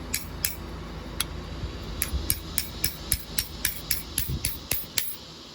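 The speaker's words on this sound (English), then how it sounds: "Let's use a hammer." A series of sharp metallic hammer taps driving a Honda Odyssey door roller part into place, starting sparse then quickening into a steady rhythm of about a dozen close blows.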